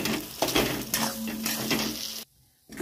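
Pea paste filling for kochuri, with cumin, dried chili and salt, sizzles in a pan as a utensil stirs and scrapes in short strokes, close and moderately quiet, before a brief pause near the end.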